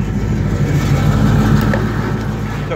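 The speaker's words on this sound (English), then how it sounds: "So car sounds good after it warms up. It's got a little cam in it. A little bit of a raspy sound to it." A 1965 Chevy Corvair with a front-mounted V8 and a mild cam revs steadily, a loud, close, raspy engine drone with a deep rumble that holds throughout, with no talk.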